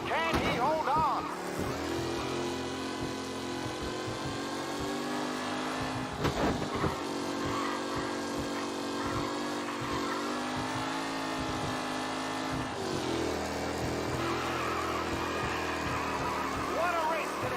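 Race cars speeding through a race in Mafia Definitive Edition, high engines whining and shifting pitch as they pass, held loud and continuous with a voice over them.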